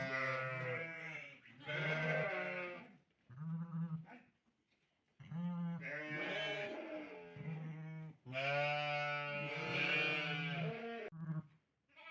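A ewe that has just given birth bleats loudly several times in long, wavering calls, close up, with short quiet pauses between them.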